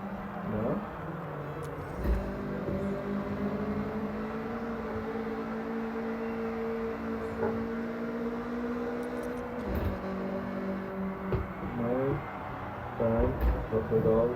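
A race car in Forza Horizon 6 accelerates through a course event, its engine droning in rising and shifting tones with throttle changes, while a voice keeps talking over it.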